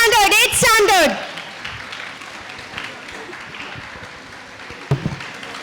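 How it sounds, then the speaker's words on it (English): Students at a school blessing ceremony applaud, the clapping rising after a voice speaks and then continuing as a moderate, steady patter with a few louder claps near the end. "Students, we need a big, big round of applause."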